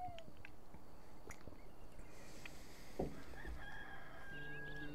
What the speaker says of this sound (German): Da kräht der Hahn.